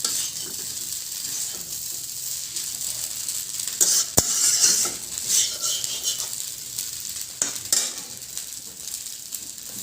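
Food reheating in a pan, stirred as it sizzles; a steady close frying hiss with scraping stir strokes and one sharp utensil clink partway through.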